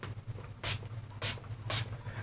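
Three short hissing spritzes from a spray bottle, evenly spaced about half a second apart, close by over a low background hum.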